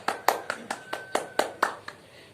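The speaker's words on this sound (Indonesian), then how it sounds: "Tepuk tangan buat Putri" A small classroom group claps for a student during a lesson, about eight distinct, fairly close claps in an uneven rhythm that taper off, with no voices over them.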